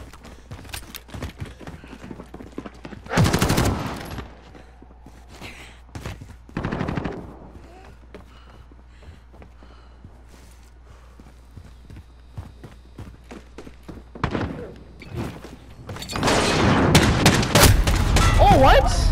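Gunfire in Call of Duty Modern Warfare comes in several loud, sharp bursts of shots with quieter gaps between them, mixed with other game sounds.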